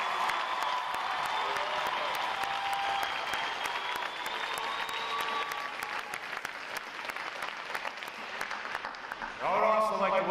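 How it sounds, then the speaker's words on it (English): Audience at a Navy boot camp graduation applauds steadily and loudly, a dense wash of clapping from a large crowd that carries on throughout while an announcer speaks over it. "put your hands together for 6 other outstanding divisions standing before you here today"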